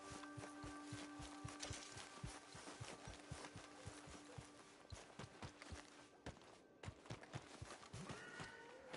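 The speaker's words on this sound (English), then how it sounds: "That horse don't listen." Horse hooves clip-clopping at a steady walking rhythm in a PS4 video game, fairly close and clear, with background game music tones and a brief pause before the steps resume.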